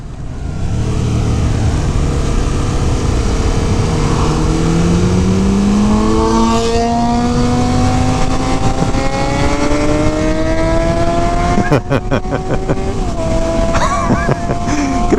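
A 2015 Yamaha MT-07 motorcycle with a sport exhaust revs up, its engine note climbing steadily in pitch over several seconds against constant wind rush, with brief sharper bursts near the end.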